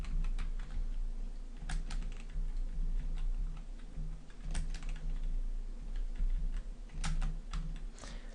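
Computer keyboard keys are pressed in scattered clicks and short clusters over a steady low hum, with a few sharper, louder key strikes standing out, close up.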